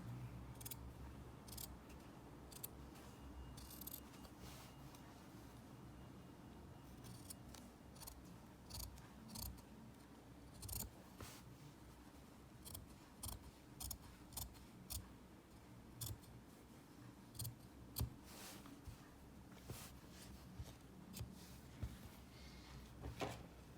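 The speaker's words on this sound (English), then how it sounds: "So I'm just going to trim off the excess. Again, I'm cutting quite close to my stitching." Scissors trim excess fabric close to the stitching along a curved sewn hem: a quiet series of short, crisp snips at an irregular rhythm, heard up close with no talking.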